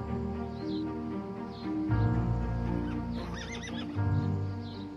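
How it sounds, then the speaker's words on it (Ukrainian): Rescued horses sheltered on a private plot whinny loudly and snort, with hooves clip-clopping on the ground beneath, close and clear throughout with a long neigh near the middle. "Конюх Валерій зібрав по навколишніх селищах коней, яким вдалося вижити"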